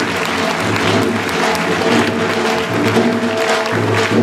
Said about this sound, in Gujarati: જોરદાર તાળીઓથી આપણે એમનું સ્વાગત કરીશું.